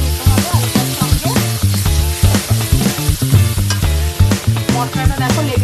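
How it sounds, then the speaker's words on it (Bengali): Fried potatoes are stirred into spiced masala in hot oil, giving a steady sizzle with repeated scraping strokes, close and fairly loud throughout. "দিয়ে এবার ভালো করে নেড়ে চেড়ে নিতে হবে আলুটার সঙ্গে।"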